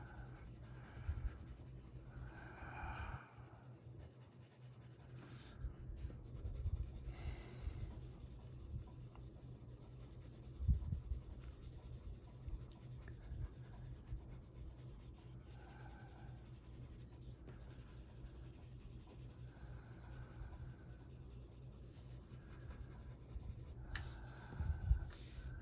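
Prismacolor colored pencils colouring skin tones on paper, a soft continuous scratchy rubbing of lead strokes, close and quiet, with occasional faint taps and no talking.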